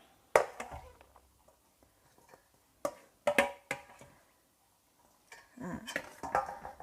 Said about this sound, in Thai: เราก็ทำการคน